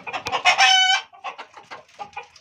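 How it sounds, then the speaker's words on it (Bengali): Chickens cluck and a rooster gives a short crow close by, with bursts of clucking continuing after it. "মুরগি, অনেক মুরগি আছে এখানে।"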